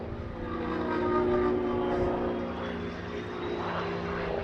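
A jet-powered Pitts aerobatic biplane performs at the Duxford airshow, its engines giving a loud, steady roar with a tonal whine that swells slightly midway and holds throughout, with no talk.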